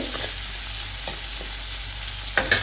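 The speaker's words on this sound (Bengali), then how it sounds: "ফ্রেশ অর্গানিক বরবটি ভাজা আর একটু পর রেডি হয়ে যাবে।" Long beans fry with turmeric in a pan, a steady close sizzle with soft stirring scrapes and a couple of sharper crackles near the end.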